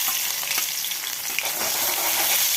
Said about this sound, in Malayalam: കടുക് പൊട്ടി വരുമ്പം വെളുത്തുള്ളി ചതച്ചത് ഇട്ട് കൊടുക്കുക